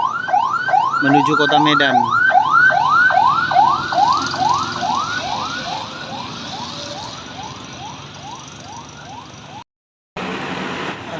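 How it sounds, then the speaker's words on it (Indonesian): An ambulance siren wails near a roadside where buses pass, repeated rising-and-falling cycles that grow fainter as it moves away, with a person speaking briefly over it and a short dropout near the end. "Dari arah kota teman-teman, ada ambulan"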